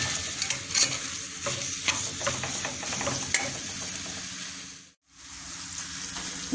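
Chopped bell peppers, two of them, sizzle and crackle steadily in a hot frying pan with onions and meat, with stirring throughout and a brief dip near the end.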